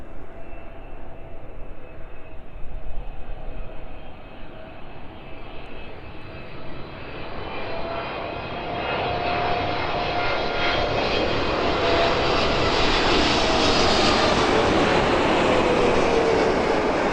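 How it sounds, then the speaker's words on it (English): A Boeing 777 arriving from Dubai lands on an evening runway at East Midlands Airport, its engine roar swelling from a distant rumble to a loud, close, sustained whine and rush with no voices. "Triple seven in from Dubai, landing in with us then"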